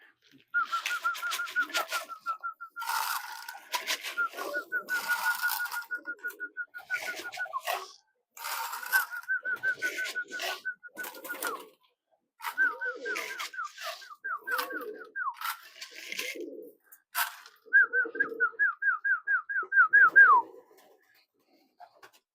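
Homing pigeons coo after landing from a one-mile flight, in repeated rolling, throaty bursts with short pauses between them, close and clear.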